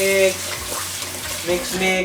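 Uncooked rice swished and rinsed in a bowl of water, soft sloshing and trickling splashes over about two seconds, close by, with a person speaking in the background.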